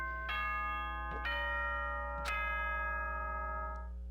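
Three bright bell-like chime strikes ring out in sequence from the Danganronpa video game, each tone sustaining and overlapping the last over a steady low hum, with no talking.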